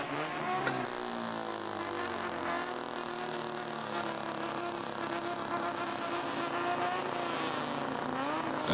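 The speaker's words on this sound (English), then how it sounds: "I think the Mazda's going to win any brapping competition." Mazda car at a New Year parade meet in Japan, its engine buzzing and revving in a harsh, distorted, steady drone with rising and falling pitch.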